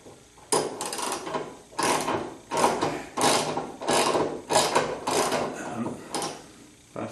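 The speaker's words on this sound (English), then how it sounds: "So I should be able to just use a ratchet on it." A hand ratchet tightens 5/16 bolts while installing a spare tire carrier on a 1976 Corvette restomod, giving about six loud, close bursts of rapid clicking separated by short pauses.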